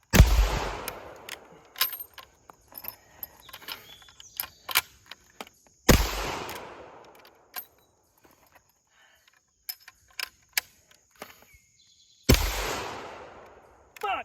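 Springfield Trapdoor rifle fired three times on a timed course, each loud, sharp report ringing out and decaying, spaced several seconds apart, with small clicks and handling noises between.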